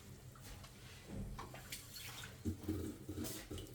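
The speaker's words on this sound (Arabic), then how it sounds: "ناخذ شويه ديال الماء" Water is poured into a bowl to make dough for a Moroccan northern-style tortilla, a soft, splashy trickle that swells and gurgles in a quiet kitchen.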